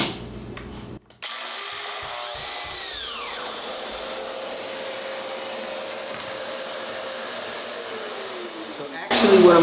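A Festool TSV 60 K track saw spins up with a whirring whine, then cuts steadily through the workpiece for several seconds before stopping abruptly at the end.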